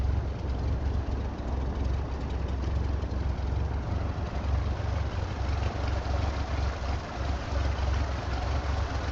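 Propeller aircraft engine idling in Microsoft Flight Simulator 2024, a steady, dense low rumble with a constant drone that holds at an even level throughout, with no talking.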